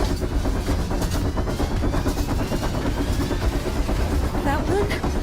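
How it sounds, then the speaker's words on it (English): A train rumbling past in the video game INDIKA, a loud steady roar with rhythmic rail clatter that holds for several seconds, with a voice speaking over it at times. "Yeah, train! Choo choo!"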